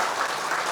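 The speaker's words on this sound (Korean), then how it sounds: "일단 박수 한번 주실까요?" Audience clapping at a Korean creditors' group's first official event, a dense even wash of applause sustained for a short burst.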